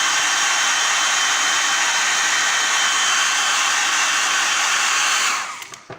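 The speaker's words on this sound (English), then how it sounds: "you can use the hair dryer on the silk" A hair dryer blows on silk wedding shoes with a steady, loud whooshing roar for several seconds, then winds down and cuts off near the end.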